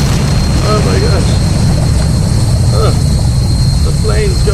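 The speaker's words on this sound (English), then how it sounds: "The plane's going down." A plane engine roars as the aircraft goes down in the survival game Stranded Deep, a loud, steady drone filling the whole stretch, with faint voice-like sounds woven into the noise.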